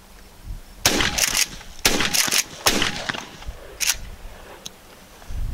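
A shotgun, a Mossberg 500 or Stevens 320 loaded with light target rounds, fires several sharp, loud blasts outdoors, spaced about a second apart with short echoing tails and a quieter shot toward the end.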